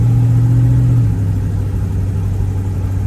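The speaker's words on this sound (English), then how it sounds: "Feel the transmission shifting for the good old 2-speed." Engine of a 1957 Chevrolet Bel Air wagon with a two-speed transmission, heard from inside while driving on a road, a loud low steady drone that eases slightly as the gear changes.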